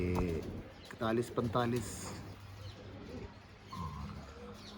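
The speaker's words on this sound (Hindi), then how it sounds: "ये दोस्तों जो हमारे फिरोजपुरी कबूतर है, रामपुरी कबूतर है" Low, soft coos from Ferozpuri and Rampuri pigeons repeat under a voice, with other faint background noise.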